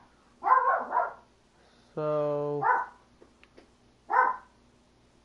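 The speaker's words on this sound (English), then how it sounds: "I do apologize for the dog barking if you hear that." A dog gives one drawn-out bark or yelp, clear and fairly close, between stretches of someone talking while playing a basketball video game.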